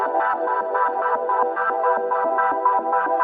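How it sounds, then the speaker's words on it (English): Two synthesizer sequencers running at different rates, one set to half-note triplets, sweep the filter cutoff of a buzzy, chorus-tinged synth tone, producing an interlocking, pulsing rhythm of bright repeated notes over a steady throbbing low pattern. "So now you can hear the two sequencer rates interacting with each other."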